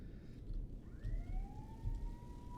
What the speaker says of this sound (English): Yes, I imagine your sirens are going